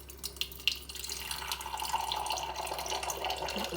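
Automatic hot-water dispenser pouring water for morning coffee in South Korea, a steady close stream hissing and rising slightly in tone as it fills, after a couple of faint clicks.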